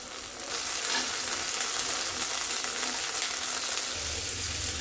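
Chopped onion and chili hit hot oil in a pan after fish has been fried in it for a village-style shing fish curry, giving a loud, steady, close sizzle with no talk.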